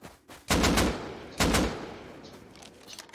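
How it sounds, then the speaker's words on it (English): Gunfire in the survival video game Rust: two loud, close bursts of rapid shots about a second apart, each with a sharp onset and a decaying tail, followed by quiet ambience. "What are you shooting at?"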